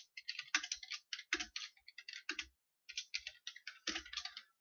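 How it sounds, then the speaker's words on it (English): Close typing on a computer keyboard, quick bursts of light key clicks with brief pauses between words and lines, alone in a quiet room. "Just going to go ahead and type them."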